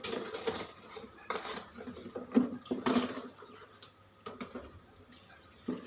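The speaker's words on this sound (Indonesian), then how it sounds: "Kemudian kita buang airnya terlebih dahulu." Water poured out while rinsing used items, splashing and trickling with clinks of metal and small objects knocking together, close and fairly quiet, in uneven bursts throughout.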